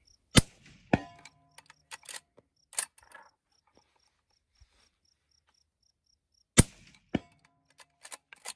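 Two sharp, close reports from a suppressed rifle fitted with a JK MST suppressor, each a sudden crack with a short metallic tail, set against a quiet outdoor background with steady insect chirping.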